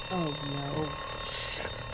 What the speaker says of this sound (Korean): 은행 안에 경보 울림